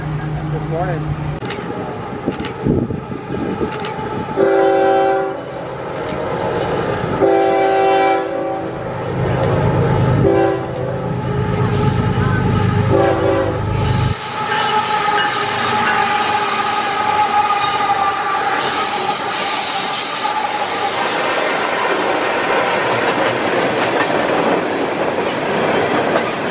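A train passes in Virginia, its horn sounding in repeated long blasts and a rumbling roll of cars building toward the end, with people chatting nearby.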